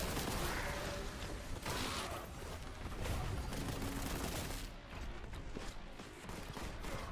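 Sustained burst of in-game gunfire, a dense loud fusillade of rapid overlapping shots running almost continuously with a brief dip near the end.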